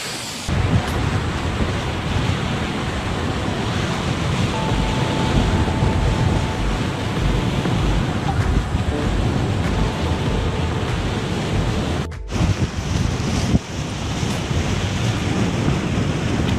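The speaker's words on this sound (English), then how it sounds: "Get your own personal waterfall." A constant rushing roar of falling water, broad and steady throughout with no pauses, loud and close.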